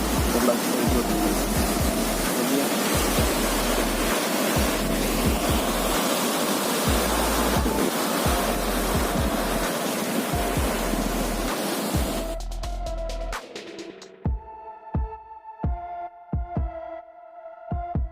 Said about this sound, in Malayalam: ചെറിയ രീതിയിൽ വെള്ളം ഒഴുകിക്കൊണ്ടിരിക്കുന്നത്